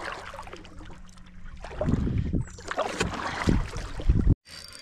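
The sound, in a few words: kayak paddles splashing in water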